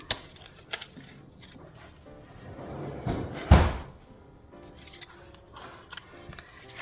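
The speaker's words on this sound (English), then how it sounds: "fold on all of these score lines" Paper being folded along score lines, with scattered close creases and rustles and one louder crackling fold midway, no talking.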